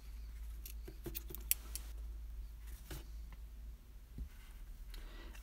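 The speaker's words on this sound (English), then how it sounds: "We can cut the green yarn." Scissors snip through green yarn during crochet work, a few faint quiet clicks and snips over a low steady background hum.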